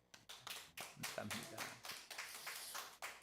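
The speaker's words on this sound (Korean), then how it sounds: "우리 감사 박수" A church congregation at a worship service claps in a quiet, steady series of close, regular hand claps, with a short spoken phrase of thanks over it.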